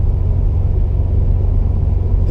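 A 2017 Subaru WRX STI drives along with a loud, steady low engine rumble and road drone from inside the cabin, unbroken and without talk.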